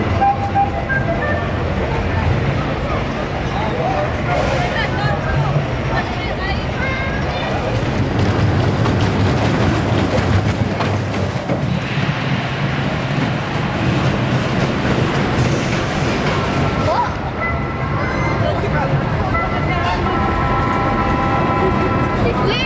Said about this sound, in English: We've just taken 4 consecutive rides on the Grand National